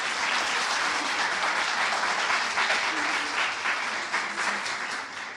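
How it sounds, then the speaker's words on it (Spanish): Audience applause for an invited artist at a conference on painting in contemporary art: dense, steady clapping from a full room that carries at an even level throughout, with no talk over it. "un aplauso para él, por favor"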